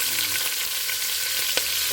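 Chopped onion dropped into hot grease for campfire beans, giving a steady, close, dense sizzle with a brief louder crackle near the end, no talking.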